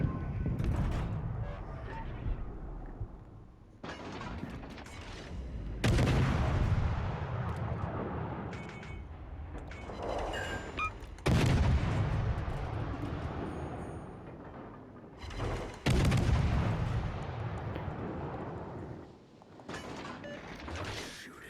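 Heavy naval gun salvos from the Provorny warship in a video game boom in repeated loud blasts spaced several seconds apart, each followed by a long rumbling decay, with mechanical clanks between shots.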